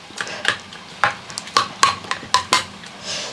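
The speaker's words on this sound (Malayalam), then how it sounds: "എന്നിട്ട് നമുക്ക് ചക്കക്കുരുവും ഒന്ന് ഉടക്കട്ടെ." Cooked jackfruit seeds being mashed in a pot, giving about ten sharp, uneven knocks and scrapes of a utensil against the pot, close and fairly loud, with no talking.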